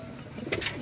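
Inside a loft, a racing pigeon coos briefly and softly. The low, throaty burble is faint, with no one speaking.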